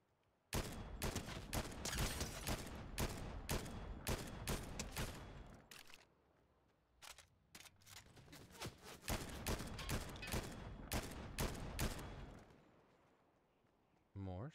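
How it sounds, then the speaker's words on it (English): Fortnite video game gunshots in dense, loud volleys, pausing briefly midway before another heavy run of rapid shots, with talking faintly underneath. "More shots from my direction?"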